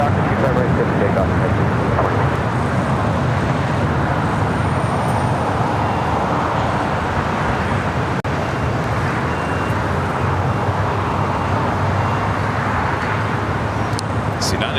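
An airliner taking off from runway 25 right at LAX, a broad steady engine roar heard from a distance and holding level throughout, with faint radio chatter in the background.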